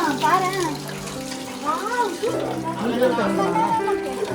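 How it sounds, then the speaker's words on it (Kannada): Pipe water from above pours steadily at a hill temple tank at Theerthamalai, a constant splashing wash heard under nearby voices talking. "ಮೇಲಿಂದ ಬರೋಕ್ಕೆ ಪೈಪ್ ವಾಟರ್"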